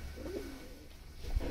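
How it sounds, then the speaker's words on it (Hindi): A pigeon coos softly nearby, a few low, rolling murmurs with faint background noise. "एक ये कबूतर भी लिया है"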